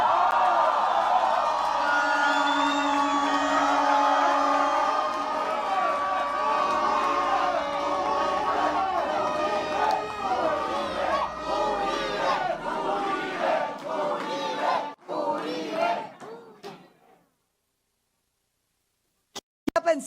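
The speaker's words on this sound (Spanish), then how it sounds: "Para que suene el estruendo de los aplausos" A large crowd at a political event cheering and chanting loudly, a roaring mass of voices with shouts that swell and sustain before cutting off abruptly into silence.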